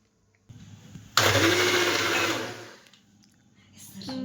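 An electric mixer grinder whirs up loudly after a softer start, runs steadily for about two seconds, then winds down and stops, with faint household noise around it.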